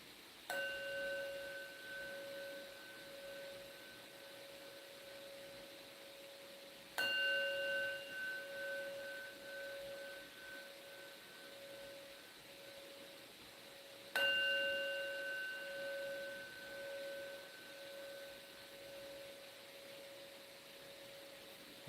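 A meditation bell rings three times at even intervals during a Buddhist community meditation, each clear strike leaving a long, pure ringing tone that slowly fades in an otherwise quiet room.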